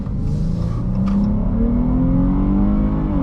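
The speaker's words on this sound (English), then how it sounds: "Let's do one more acceleration up this hill." A 2021 Chrysler 300S V6 sedan accelerates uphill under load, a close, steady droning hum rising gradually in pitch over a few seconds.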